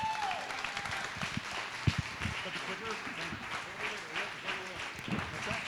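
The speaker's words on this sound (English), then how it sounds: "give him another round of applause" A comedy club crowd claps after a headliner's stand-up set, a fairly quiet, diffuse patter of applause with a few sharper claps and a whoop, heard at a distance, with a voice speaking over it.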